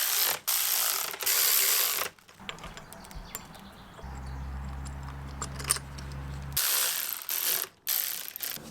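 A ratchet tightens bolts during a turbo install on an Audi S3, giving loud bursts of rapid clicking, then quieter mechanical handling and a steady low hum before the clicking resumes.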